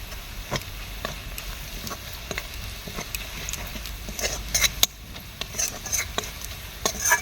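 Coriander, pepper and chilli powder are stir-fried with ginger and garlic in a pan for a Bengali doi chicken curry, a soft sizzle broken by irregular scrapes and clinks of a spatula stirring.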